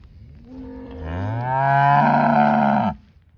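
A dairy cow at a cattle sale lets out one long, loud, close moo that swells and holds for about two seconds before cutting off.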